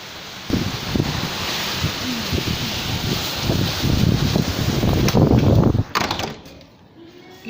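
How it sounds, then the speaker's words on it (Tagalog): Strong wind during a sandstorm in Riyadh: a loud, continuous roar of gusts buffeting the microphone, with rustling and a rattle, that drops off sharply near the end. "Lakas ng hangin dito sa Riyadh."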